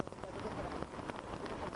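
Monsoon rain falls in Mumbai as a dense, steady hiss and patter with scattered splashy drops, continuous and fairly faint.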